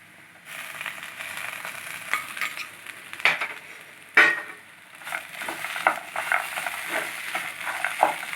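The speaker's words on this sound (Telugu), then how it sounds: "అల్లం వెల్లుల్లి పేస్ట్ పచ్చి వాసన పోయేదాకా ఫ్రై చేసుకోవాలి" Ginger garlic paste fries in a pan for a makhana curry, with a steady close sizzle broken by repeated scraping strokes of a stirring spoon.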